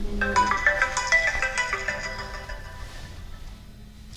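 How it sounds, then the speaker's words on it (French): A phone ringtone plays a bright, melodic electronic tune for about two seconds, then tapers off into quieter tones. No one talks over it. "Votre téléphone sonne."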